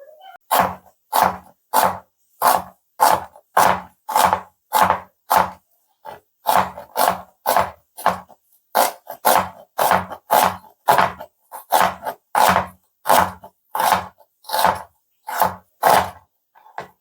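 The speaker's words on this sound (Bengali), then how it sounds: "আর এখানে দেখো পেঁয়াজ কাটছি" Knife chopping onion on a cutting board, a long run of sharp, evenly spaced thuds at a steady brisk rhythm, close and clear with no talk over it.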